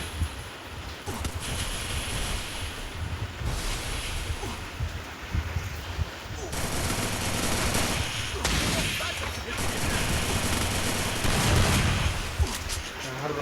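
Gunfire in a mobile shooting game with a shotgun and a Vector weapon, repeated shots and bursts over a dense, noisy game soundtrack, with a player talking over it.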